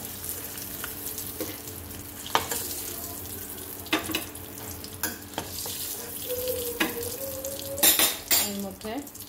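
Eggs fry in oil in a pan with a constant crackling sizzle, broken by sharp clinks and scrapes of a utensil against the metal, growing busier toward the end.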